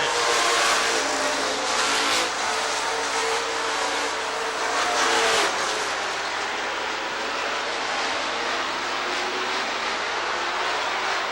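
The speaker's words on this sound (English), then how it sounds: "Now the field picks it up again on a 4 green flag, and we're racing." Race cars roaring around Rockford Speedway, a short-track oval, after a green flag restart: a dense, loud engine drone from the racing field, swelling and passing steadily with no talk.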